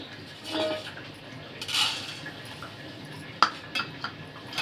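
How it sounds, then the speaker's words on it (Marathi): Puffed rice tipped from a cup into a metal pot in a home kitchen, for a kurmura dosa: a brief soft rattling pour with light clinks of utensils, close and quiet, with no talk. "ते मी एका भांड्यामध्ये काढून घेते"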